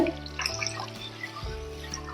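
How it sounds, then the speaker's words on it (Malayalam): First-extract coconut milk being poured into a pot of banana payasam, giving a steady liquid trickle and dribble close by, with no talking over the sound. "ഇനി നമുക്ക് ഒന്നാം പാൽ ഒഴിച്ച്"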